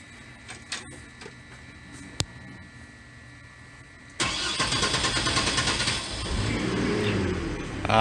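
A boat engine on Caddo Lake sits quiet through a few faint clicks, then cranks and catches halfway through, settling into a loud, close, rumbling idle that keeps running to the end.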